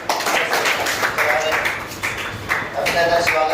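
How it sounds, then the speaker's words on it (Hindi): Applause from the audience at a coaching institute felicitation ceremony in Nawalgarh, a dense, continuous clatter of many hands clapping at a moderate distance. "जोरदार तालियां।"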